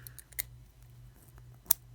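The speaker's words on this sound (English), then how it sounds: "these are really nice little scissors" Small folding travel scissors clack and snap in the hand, a few sharp, close metallic clicks with quiet handling noise between them and no talking.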